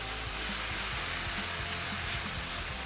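Fresh ginger sizzles and fries loudly in a hot pan with a steady hiss. Soft stirring knocks come through now and then under it, and there is no talking.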